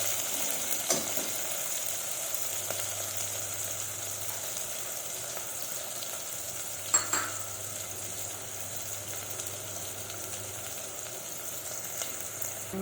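Ridge gourd egg curry fries in a pan with a steady, soft sizzle, a couple of distinct spoon-on-pan knocks and light stirring scrapes, no talking.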